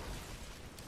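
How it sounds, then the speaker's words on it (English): Corpse explosion skill going off in Diablo 3, a dense, loud burst of rumbling, crackling blast noise that fills the short moment without pause. "corpse explosion over and over."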